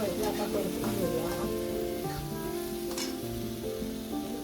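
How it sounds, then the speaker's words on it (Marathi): Dry shrimps sautéing in a pan for a chutney, a continuous close sizzle with stirring scrapes and faint background voices mixed in. "पहिले आता परतून घेऊया."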